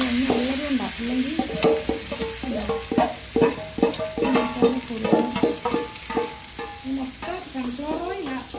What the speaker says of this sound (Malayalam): നന്നായിട്ട് നമ്മൾ പുരട്ടി മസാല പുരട്ടി വെച്ചേക്കുന്ന കോളിഫ്ലവർ വറുത്തെടുക്കണം.